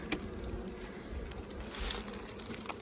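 Honey bees, survivor bees newly released into a hive box, make a faint steady buzz that holds low and continuous throughout without pause.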